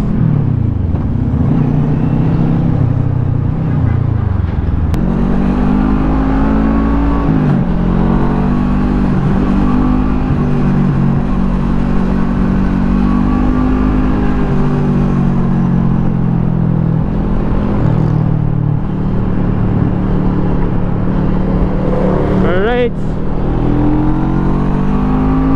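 Bristol Bobber 650 motorcycle engine roaring steadily on an open-road test ride, with the pitch rising as it accelerates and a loud, continuous exhaust drone and wind rush close by.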